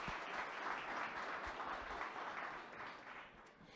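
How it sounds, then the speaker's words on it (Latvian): Audience applause fills a conference forum hall after a presenter's thanks, a steady dense wash of many hands clapping that holds strong throughout and eases slightly toward the end. "Es domāju, pelnījuši aplausus."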